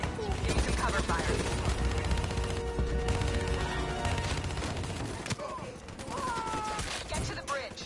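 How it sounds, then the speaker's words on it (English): Sustained cover gunfire in the Black Ops 3 campaign, a dense rolling fusillade of rifle and machine-gun bursts over a loud game soundtrack, with shouted voices mixed in throughout. "Give me some cover fire."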